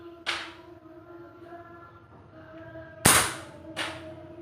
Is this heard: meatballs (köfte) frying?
no